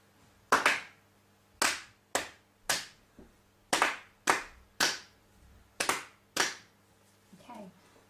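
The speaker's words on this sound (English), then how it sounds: "let's have a go at clapping this one" Hands clap out a simple rhythm during a beginner music lesson, about ten sharp, close claps in an uneven pattern, with a brief soft voice near the end.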